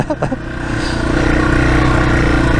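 Yamaha TW200 motorcycle with fat tires churning through deep sand, the engine droning loud and close at steady revs for a couple of seconds.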